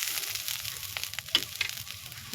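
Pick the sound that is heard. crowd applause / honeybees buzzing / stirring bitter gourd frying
stirring bitter gourd frying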